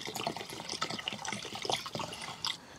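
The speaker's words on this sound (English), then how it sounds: "And we're pouring that inside the headlight unit" Petrol trickles and splashes as it is poured into a plastic headlight unit, a faint, uneven liquid gurgle with small splashy bursts and no one speaking.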